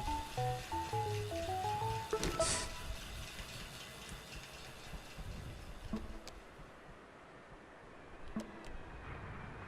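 A low rumbling train passes in Astroneer with steady mechanical noise, brief musical tones at the start and a few clicks and clanks as it fades.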